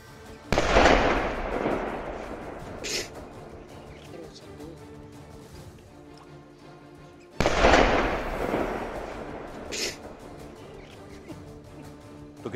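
Two powerful IED explosions boom some seconds apart on the Srinagar-Baramulla highway in Jammu and Kashmir, each a deep blast followed by a long rumbling decay echoing into the distance.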